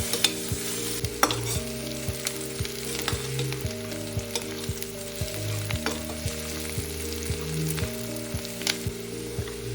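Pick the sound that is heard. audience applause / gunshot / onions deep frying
onions deep frying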